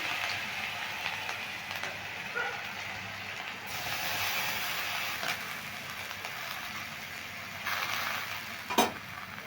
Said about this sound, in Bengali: প্রথমে আলুটা নেড়ে তেড়ে একটু ভেজে নেব